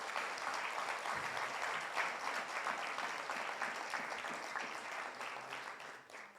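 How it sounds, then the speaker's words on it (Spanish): A church congregation claps together in praise, a fairly quiet but steady wash of hand claps with a loose rhythm that thins slightly toward the end. "¿Alguien le puede dar palmas al Señor?"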